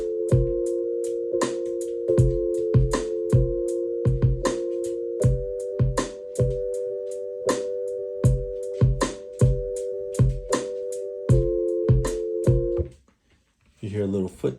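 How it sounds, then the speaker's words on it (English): An SP404 Mk2 sampler plays sustained synth chords over a punchy drum beat with heavy kicks and crisp hits in a steady groove, loud and close, then stops and a voice speaks briefly at the end. "So I started out, I've created the chords and the drums,"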